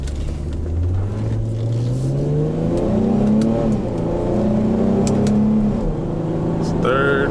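An Infiniti G35 coupe in manual mode revs up through the gears, the engine tone climbing and dropping with each shift, heard from inside the car with a voice talking over it.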